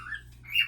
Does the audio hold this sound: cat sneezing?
no